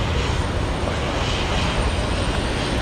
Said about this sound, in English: A220 should be visible any second